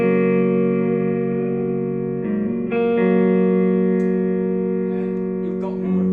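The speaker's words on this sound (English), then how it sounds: "we can go to a room reverb" Sustained guitar chords ring through a Blue Sky pedal set to room reverb with modulation off, changing twice as the notes shift and swell, loud and close, with a faint reverberant tail and a little note noise near the end.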